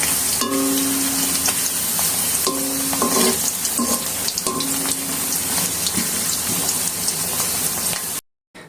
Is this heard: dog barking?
no